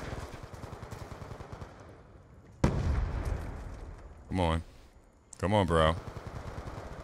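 Gunfire from a shotgun and other weapons in a Call of Duty match, with sharp loud blasts among a steady rattle of shots, while someone speaks briefly over the action.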